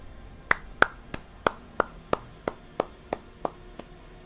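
About a dozen sharp, evenly spaced hand claps from a single person, crisp and close, in a slow steady rhythm with short quiet gaps between them.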